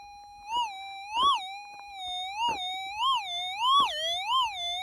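A metal detector sounding on a target while hunting ground with hot rocks: a loud, steady warbling electronic tone that swoops up and down repeatedly, with short scraping noises mixed in.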